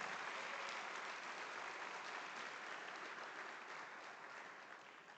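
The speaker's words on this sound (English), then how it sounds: "Let's have a huge round of applause." An audience applauds at New India Assurance's 107th Foundation Day celebration, a dense, even wash of clapping heard from a distance that tapers slightly toward the end.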